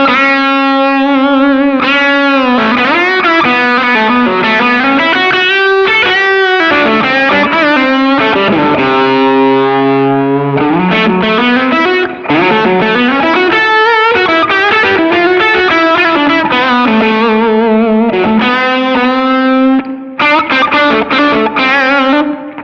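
Distorted electric guitar played through a Crazy Tube Circuits Heatseeker pedal with a wall-of-sound setting and extra gain, chugging chords and sustained notes, loud and continuous with no talking.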